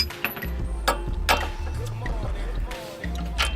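Ratchet wrench working a 17 mm nut on the front strut of a 2004 Honda CR-V, giving a few quick metallic clicks and clanks close by amid shop noise, with talking over it.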